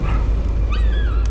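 A dog in a video game gives a short, loud yelping bark with a whimpering tone, a single brief burst over a dense, steady game soundscape.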